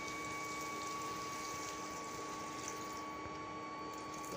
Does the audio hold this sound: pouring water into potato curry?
yes